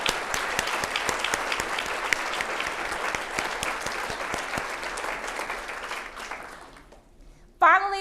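A crowd claps steadily for city staff at a mayor's 2023 State of the City presentation. The clapping is dense and sustained, fades out toward the end, and then a voice begins speaking.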